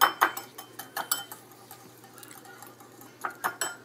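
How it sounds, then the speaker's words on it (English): Curry ingredients, including kaffir lime leaf, lemongrass, soy sauce and sesame oil, being stirred with a utensil in a bowl, giving quiet clinks and scrapes in irregular bursts up close. "And I'm just going to stir that a bit."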